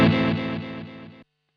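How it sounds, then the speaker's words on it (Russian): A single distorted guitar chord rings out through a TC Electronic The Prophet digital delay pedal, sustaining for about a second before cutting off abruptly into silence. "как звучит цифровой"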